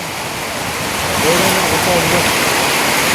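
Flowing water at a glass-walled building job site: a steady broadband rush that swells partway through, with a voice speaking briefly over it.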